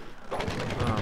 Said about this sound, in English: I'm being shot at, but I'm also getting healed.